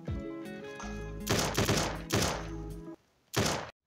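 Video game gunfire sounds in rapid bursts of shots over a tonal game soundtrack, with a short pause before a final burst.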